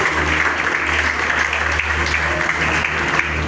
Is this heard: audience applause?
yes